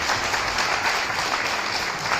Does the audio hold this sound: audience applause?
yes